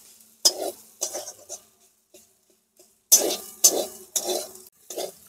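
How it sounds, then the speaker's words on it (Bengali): A spoon works dry spiced potato filling around a pan in separate scraping strokes. A few strokes come first, then a short pause, then a run of firmer, louder stirs. The sound is close, no one speaks, and only a faint sizzle comes through. "সব মশলা দিয়ে খুব ভালো করে নেড়ে চেড়ে নিয়েছি"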